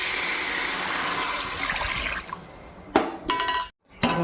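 Water pours steadily into soaked rice for bagara rice, a continuous splashing stream that breaks off near the end with a brief silence and a few final splashes.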